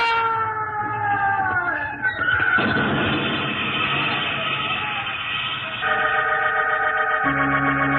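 A train passes on a London railway line, a steady loud rumble with sustained horn-like tones that shift in pitch and step down near the end, filling the whole stretch with no voices.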